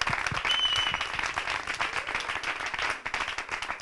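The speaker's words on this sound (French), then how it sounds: "Est-ce qu'on peut encore acclamer très fort?" Audience applauding after a Christian choir performance, dense steady clapping from a large crowd that holds throughout at a strong level before easing slightly near the end.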